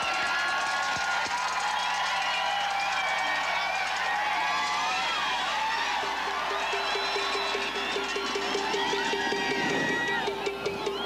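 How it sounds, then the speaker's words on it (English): A crowd at the 1988 Calgary Olympic two-man bobsled run cheers in a sustained wash of noise beneath a commentator's voice, with a sled rumbling past amid the excitement. "Listen to the crowd."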